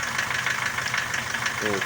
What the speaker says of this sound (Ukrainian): Підсмоктує з-під карбюратора повітря.